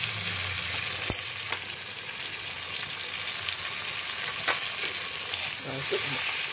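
Ground masala of turmeric, cumin and red chilli powder sautéing in a pan, a loud, steady close sizzle with an occasional utensil tap and soft stirring scrapes, no voices.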